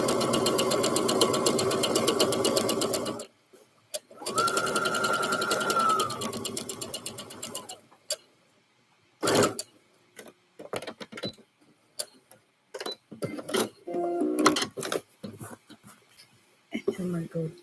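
A sewing machine stitches fabric for a scrub top in rapid mechanical bursts, running for a few seconds and stopping, then running again. Short stop-start runs and handling noises follow.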